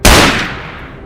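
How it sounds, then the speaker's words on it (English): A single close rifle shot is fired at a wild boar, making a sharp loud crack that decays over about a second. "I raised my rifle and fired"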